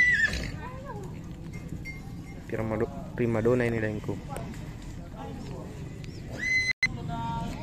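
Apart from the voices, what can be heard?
horses neighing at horse market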